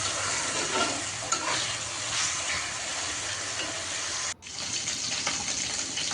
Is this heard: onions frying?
yes